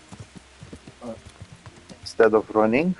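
Horse hooves clop in a steady rhythm while riding in the game Kingdom Come: Deliverance, moderately loud under someone talking, with a louder spoken passage near the end.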